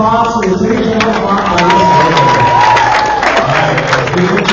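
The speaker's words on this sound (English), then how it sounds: "let's give a round of applause to the Attorney General" A high school audience at Southern High School applauds the Attorney General during a school outreach event, with continuous loud clapping mixed with cheering and shouting voices.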